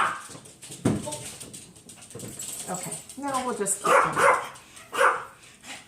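A pet dog barks in short bursts and whimpers indoors, close and fairly loud, while someone talks over it.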